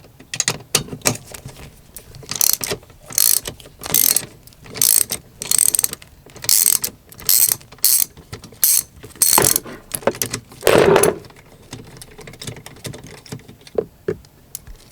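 Ratchet wrench clicking in quick bursts while backing out passenger airbag bolts on a 2004 Honda Element, close and loud, with short pauses between runs of clicks.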